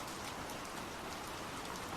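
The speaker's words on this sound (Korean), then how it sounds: "거센 빗방울 탓에 창문은 계속 덜컹거리며 공포스러운 분위기를 만들었다." Steady, dense rain pouring down, a continuous hiss of drops with no pauses and no voices.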